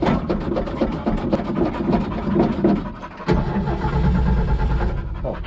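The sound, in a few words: 1965 Ford F250 service truck engine starting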